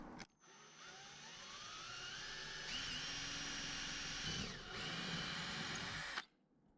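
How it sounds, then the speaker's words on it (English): A power drill bores through a Lexan sheet backed by small 2x2 wood blocks, a loud close whine that rises in pitch as the bit spins up, dips briefly, then cuts off abruptly. "I'm drilling through onto these little 2x2s here, just so that it doesn't break when it goes through the other side of the Lexan"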